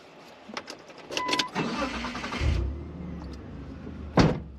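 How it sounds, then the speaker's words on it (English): Cars passing on a quiet outback road in Queensland: a loud, hissing vehicle pass-by that swells near the middle, then a second brief whoosh close by near the end, with a low engine rumble beneath. "The cars hiss by my window."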